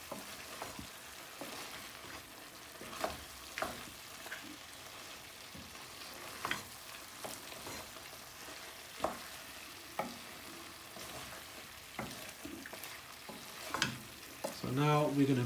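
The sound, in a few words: beef and spices frying in masala, Beef Shatkora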